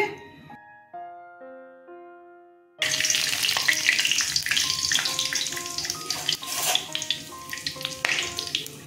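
Mustard oil heats in a pan on the stove, first quiet behind a short melodic tune, then a loud steady sizzle with crackling pops that continues while music notes play over it.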